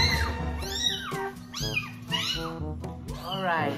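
Young kittens meow repeatedly in rising, wavering cries, close and fairly loud, while a person talks over them.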